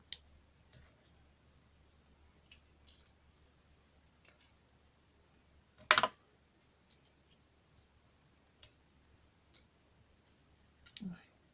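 Scissors snip through a bundle of stems for a scrapbook bookmark, giving sparse, crisp clicks and cuts with one sharper snip midway, close and quiet over a faint low hum.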